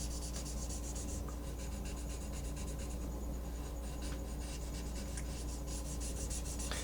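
Graphite pencil shading on paper for a realistic portrait of a smiling mouth and teeth: a steady, close, soft rasping scratch of the lead rubbing back and forth, continuous throughout with no voices.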